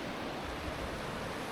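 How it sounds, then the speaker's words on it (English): Whitewater play wave on a river, pouring over a huge steep slab of granite: a steady, broadband rush of churning water, constant and close with no pauses, heard alone. "Beautiful little play wave right here in front of me"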